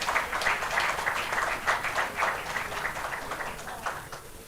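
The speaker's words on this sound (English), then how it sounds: "let's give them a round of applause" Shareholders applaud at an oil palm company's annual general meeting, a steady, fairly soft wash of many hands clapping that holds for several seconds without a break.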